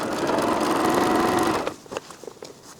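A serger stitches a quilt with a fast, whirring motor hum for about a second and a half, then stops, leaving a few light clicks and handling sounds.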